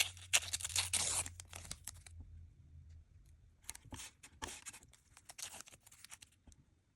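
Painter's tape for a card border is torn and applied, starting with a bright crinkly rip for about two seconds, then quieter intermittent scratches and pressing sounds close by in a quiet room.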